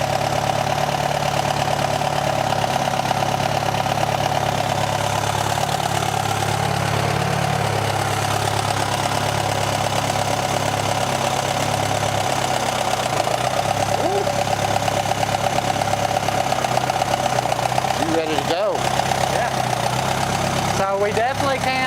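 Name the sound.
Allis Chalmers twin engine tractor running on one engine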